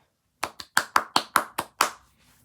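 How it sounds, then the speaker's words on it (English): Eight sharp hand claps in quick succession, close and alone, with an uneven rhythm and a brief pause after the second, then quiet. "I don't know why I clapped."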